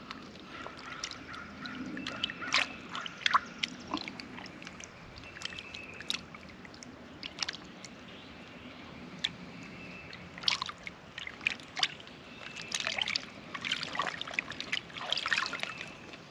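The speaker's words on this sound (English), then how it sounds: "And just kind of agitate the water around the leaves." Leafy vegetables are swished around in a bucket of water, giving irregular splashes, sloshes and drips, fairly close and moderately quiet, with brief pauses between bursts of agitation.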